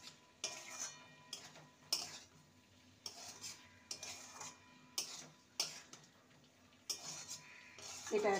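A spoon stirs a spicy vegetarian green bean curry with garam masala in a pan, making quiet, regular scraping strokes about once a second.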